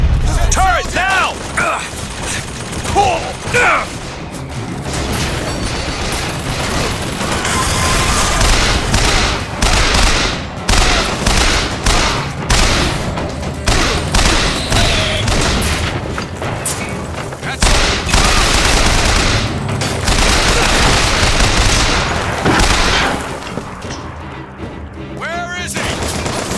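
Dense, sustained gunfire from a deployed turret in the BioShock Infinite video game, rapid bursts and booms filling the scene almost continuously with mechanical clatter, while voices shout over the combat.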